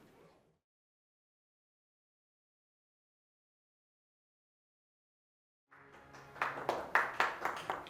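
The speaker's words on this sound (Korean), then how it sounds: "아, 이제 노래 끝나고 박수도 나오고" Applause from a live audience breaks out after a Korean ballad ends, rising out of silence into a burst of clapping that swells and carries on to the end.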